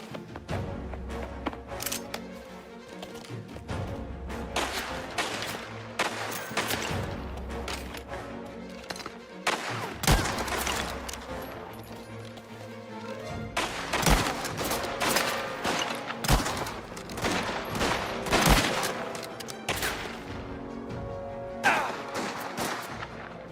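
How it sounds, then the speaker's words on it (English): Repeated gunfire in the video game Mafia: The Old Country, loud bursts and single shots cracking throughout over a busy game soundscape, with no talk. "Just keep shooting!"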